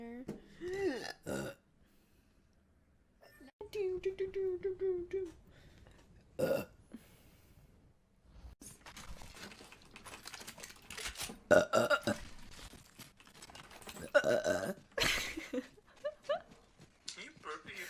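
A person burps repeatedly while playing Apex, the belches short and scattered across the stretch, mixed with frequent casual talk and some clicking.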